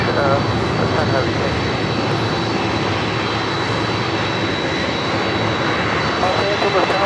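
A Boeing 777 heavy jet airliner departs from a Los Angeles airport runway, a loud steady engine roar filling the whole stretch, with a faint high whine and radio voices underneath.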